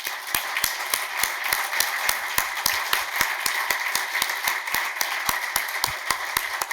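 Audience applause after a panel discussion on supplier inclusion and diversity, a fairly small crowd clapping in a steady, even rhythm throughout.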